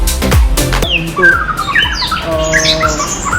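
A magpie-robin (murai) kept by a Bali breeder calls up close with loud squawks, then a run of varied chirps and whistled phrases, with no one speaking.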